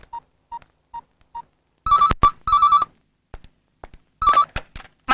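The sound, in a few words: telephone ringing for a call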